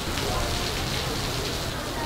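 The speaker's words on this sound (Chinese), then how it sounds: "係落大雨啊。" Heavy rain pouring down outdoors in Taichung, Taiwan, a loud, steady, dense hiss of drops hitting surfaces that fills the whole clip without a break.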